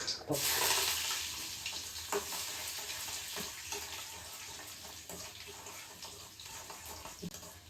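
Chopped garlic sizzles and crackles steadily in oil in a pan, with occasional stirring scrapes; the frying is loudest at the start and settles into a softer hiss.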